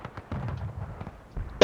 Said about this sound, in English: now we'll see what artillery can do